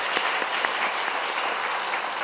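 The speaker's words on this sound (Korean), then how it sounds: "우리가 박수로 한번 환영해 주시기 바라겠습니다" Church congregation clapping to welcome a first-time visitor during a service, dense, even applause from many hands that stays loud and continuous throughout, no talk above it.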